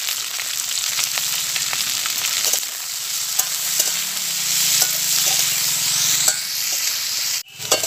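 Ivy gourd and potato pieces, salted and dusted with turmeric, fry in a pan with a constant close sizzle, punctuated by occasional scraping stirs and a sharp clatter near the end.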